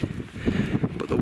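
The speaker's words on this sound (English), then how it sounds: "the wind just keeps hitting me in gusts" Gusty wind buffets a steep hillside climb near Auchope Cairn, a low rumbling roar that surges and eases in uneven pulses close to the microphone, with no voices.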